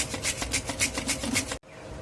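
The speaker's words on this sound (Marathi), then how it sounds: "आणि अशाच पद्धतीने आपण सर्व रताळे खिसून घेणार आहोत" Sweet potato being grated by hand: about eight quick, rhythmic rasping strokes, close and fairly loud, before the scraping stops suddenly.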